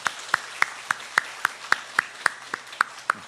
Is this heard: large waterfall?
no